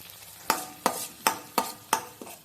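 Frozen green peas and mushrooms sautéed with garlic for mattar paneer: six sharp, evenly spaced scrapes of a spoon against the pan over a low, steady sizzle, close and fairly quiet, with no talking.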